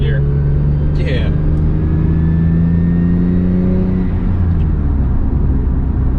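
A Lexus IS300 engine revs in second gear at around 3,500 RPM, giving a loud, continuous droning hum with a slowly shifting pitch, heard from inside the car.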